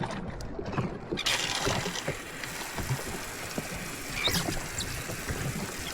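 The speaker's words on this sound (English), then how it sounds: "Turn on the pump." Water pump running on a fishing boat to fill a live well, a rough gurgling wash of water with mechanical rumble, steady and fairly close, without talk.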